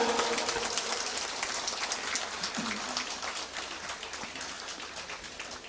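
Light, even applause patters across a conference hall, a dense crackle of many hands clapping at moderate distance.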